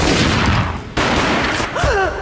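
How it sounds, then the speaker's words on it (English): Loud, dense gunfire rattles off in the video game Max Payne, a rapid volley with a brief break, then another burst. "A gunshot boomed and she fell down in slow motion."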